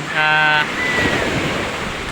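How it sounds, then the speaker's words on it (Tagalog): Strong sea waves wash and roar up close, with wind buffeting the microphone, a brief tonal hum at the start, and a steady loud surf rush throughout. "Lakas ho ng alon."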